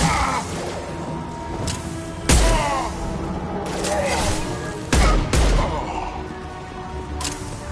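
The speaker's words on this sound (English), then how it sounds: "Taking heavy fire!" Rapid gunfire crackles through a firefight in the video game Mass Effect 2, with two heavy booming impacts standing out over continuous bursts of shots and shouted voices.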